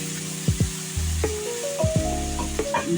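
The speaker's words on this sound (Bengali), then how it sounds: "লাইট সয়া সস, সব কিছু দিয়ে ভালো করে নেড়ে চেড়ে" Chili chicken with soy sauce sizzles steadily in a pan as it is stir-fried, broken by a few sharp scraping clacks of a spatula against the metal, with no speech.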